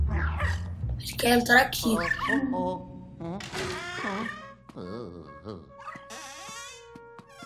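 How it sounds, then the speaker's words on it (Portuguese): A dog in Luigi's Mansion 3 gives short yips, barks and thin whimpering whines, mixed with game sounds under a voice talking over the first half. "Tenta seguir o cachorro, ó."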